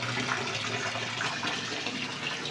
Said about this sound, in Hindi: थोड़ा सा वो पानी शानी भर लें